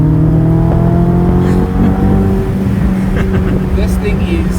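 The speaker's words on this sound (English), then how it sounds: "There are no words quite like driving such a beautifully spec Ferrari with that Ferrari engine" A Ferrari California's engine drones and revs while driving, a strong, steady tonal growl with shifting pitch that runs continuously, close and loud throughout.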